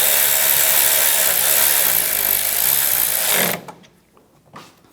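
Power tool driving the bolts on a coolant reservoir of a 2008-2013 BMW 328i xDrive, a loud, close, steady whine lasting about three and a half seconds before cutting off, followed by faint handling sounds.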